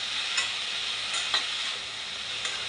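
Chopped onions stirred and fried in a pan for a Malvani-style curry, giving a steady bright sizzle with a few soft scraping stirs close by and no voices.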